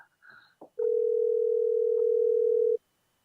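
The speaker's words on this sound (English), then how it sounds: "Let's get him on the phone. Siri, can you call Jimmy" A phone call placed hands-free by a voice assistant produces a steady, loud dial tone that lasts about two seconds, after a couple of brief clicks and a short chime.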